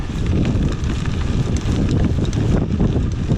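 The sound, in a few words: strong wind blowing while riding a gravel bike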